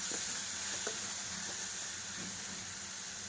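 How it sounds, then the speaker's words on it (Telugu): Ginger garlic paste sizzles steadily in a hot pan while a spoon stirs it, giving a continuous frying hiss with a few soft scraping strokes, close and fairly loud, with no talking. "అల్లం వెల్లుల్లి పేస్ట్ బాగా ఫ్రై అవ్వాలండి."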